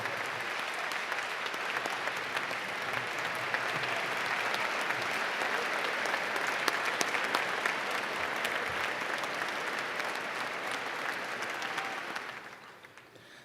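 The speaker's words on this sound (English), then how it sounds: "please join us in a round of applause for the 2018 recipients of the United States Naval Academy Alumni Association's Distinguished Graduate Award" A large ceremony audience applauds the 2018 Naval Academy Alumni Association Distinguished Graduate Award recipients, a continuous, even wash of clapping heard from a distance for over twelve seconds before dropping away.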